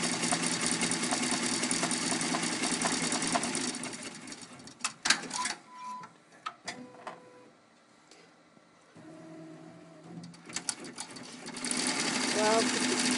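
A home embroidery machine stitches a ladybug applique design, with a steady, fast mechanical whirring in stretches, a pause with scattered clicks and small tones in the middle, then stitching resumes. A person talks over it.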